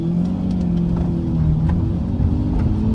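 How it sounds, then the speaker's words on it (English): Lamborghini Murcielago engine roaring loud and close as the car accelerates, a steady deep drone with rising harmonics and no talk over it. "Mr. Rutherford, tearing it up in the Murcielago."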